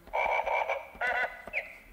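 Frog croaking in a few short, loud bursts close by, a repeated throaty call with brief gaps and a final rising chirp, with no talk over it.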